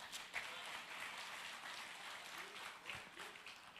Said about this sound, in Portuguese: Será que você pode aplaudir Jesus?